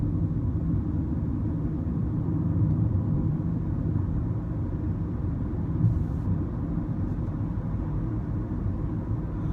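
Steady low road rumble fills a moving car's interior, with a constant drone of engine and tyre noise and no clear voices.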